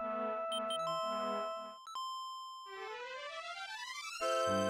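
Heaven Bell chime from the SNES game Dragon Quest V, a bright synthesized bell melody with ringing sustained tones and rising arpeggiated runs, playing alone without voices.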